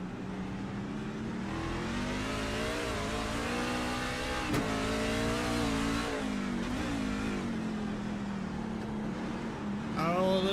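Race truck engine in a Truck Series street race in Chicago, revving up and down as the driver works throttle and brakes, loud and close with shifting pitch, a commentator's voice faintly under it.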